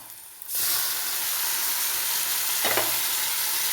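Tomatoes drop into a hot pan of oil, setting off a sudden loud sizzle that holds steady, with a brief stirring scrape near the end.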